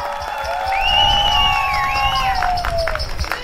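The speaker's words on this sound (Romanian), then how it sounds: "Aș vrea neapărat să-i oferiți cele mai frumoase aplauze domnului primar Cristi Leazăr." Audience applause for the mayor at a Christmas carol concert in Șimleu Silvaniei: a steady, close wash of clapping and crowd noise, with a sustained sliding tonal sound running above it.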